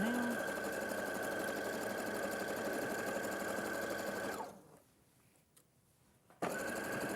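A sewing machine runs close and loud, stitching in a steady whirring rhythm. After about four seconds it stops for a short quiet gap, then starts up again abruptly.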